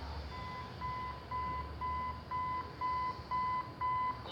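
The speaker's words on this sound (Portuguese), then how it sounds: "Um relógio despertador." The end-of-night alarm clock in the video game Five Nights at Freddy's 4 gives a steady series of short, evenly spaced electronic beeps, moderately loud, over a low background hum.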